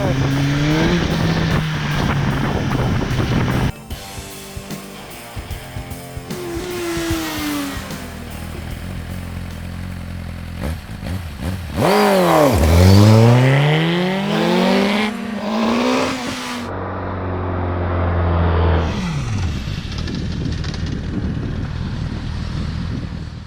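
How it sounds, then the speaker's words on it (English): A 2017 Suzuki GSX-R1000R superbike engine roars under hard throttle, with loud rising and falling revs, gear-shift breaks and sweeping pitch changes amid wind noise, recorded close over a long ride. "it makes a huge roar when you pull the gas"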